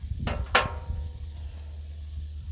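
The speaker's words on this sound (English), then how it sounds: "If you haven't tried mayo when you're toasting a bun on the griddle, give it a shot" A bun toasting with mayo on a Blackstone griddle while a veggie burger is being made: two quick bursts of sizzle, then a soft, steady crackle over a low hum.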